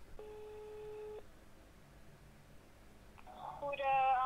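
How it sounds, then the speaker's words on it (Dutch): A phone line tone sounds while calling a Domino's pizza shop: a steady electronic beep, then a pause of low background hiss, then a bright tonal burst as the call goes on. A voice comes in near the end. "Tijd om Domino's te bellen."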